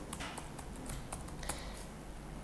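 Fingers type on a computer keyboard in a quiet room, a quick irregular run of soft clicking keystrokes close by with brief pauses, no speech.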